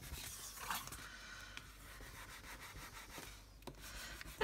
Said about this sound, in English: take your bone folder and rub into this little gap